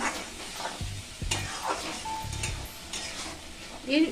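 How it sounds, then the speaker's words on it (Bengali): Spice paste marinated in yogurt being stirred and fried in oil, sizzling under repeated scraping strokes of a spatula against the pan, with a few metallic clinks. "দেখুন এই মশলাটাকে আমি এবার তেলের মধ্যে কষিয়ে নেব।"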